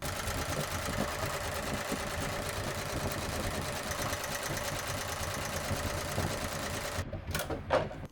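An embroidery machine runs continuously as it stitches a tack-down line on fabric for an in-the-hoop nativity scene, a fast, even mechanical whirring and clicking held close and steady before stopping near the end.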